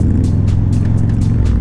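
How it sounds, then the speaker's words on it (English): A beginner rider's motorcycle engine gives a loud, close, steady low rumble throughout the short stretch, with no talking. "we're gonna end up accelerating out of here"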